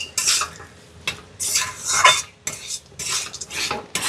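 Spiced potato filling being stirred in a pan, close, with repeated rhythmic scraping and clinking of a metal utensil in bursts about half a second to a second long over a faint sizzle.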